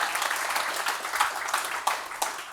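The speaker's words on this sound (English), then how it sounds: "You can also clap now if you want." Scattered applause from a small audience after a technical conference talk on securing infrastructure: light, fairly quiet clapping with a few sharper individual claps standing out.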